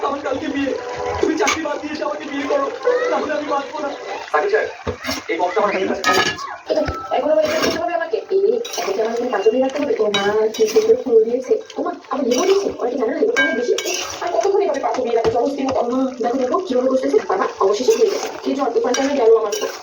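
Tomato being added and stirred into mutton kosha in a pan, with continuous scraping and clinking of a utensil against the pan and a light sizzle, under steady talk throughout.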